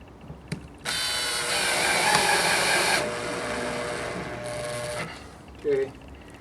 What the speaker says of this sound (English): And let's go ahead and put some screws in.